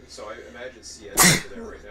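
A single sharp, close sneeze bursts out midway through casual talk among players of an online railroad game.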